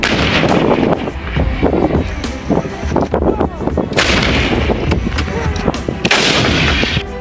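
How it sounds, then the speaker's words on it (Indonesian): Rapid, loud bursts of artillery and gunfire from a video game, with repeated sharp blasts and booming impacts layered densely over steady roaring noise. "rudal artileri"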